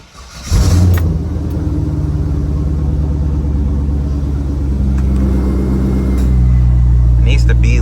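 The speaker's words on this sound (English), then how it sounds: "See if we can get a cold start." A C5 Corvette V8 with a newly installed aftermarket air intake cold-starts with a crank, then settles into a loud, steady, deep idle rumble that runs close and continuous, with a voice speaking briefly over it.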